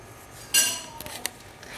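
A metal pot of cold water and cauliflower florets is set down on a stovetop burner with one sharp clank, followed by a few lighter metallic clinks as salt is added.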